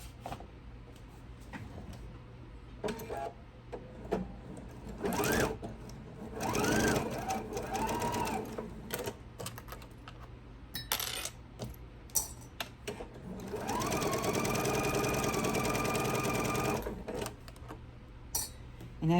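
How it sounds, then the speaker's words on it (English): A sewing machine runs a seam along an apron's edges and ruffle, with short whirring bursts and a longer steady stitching run near the end, amid faint handling noises. "I'm going to sew this all the way down one side, all around the bottom, and then down the other side."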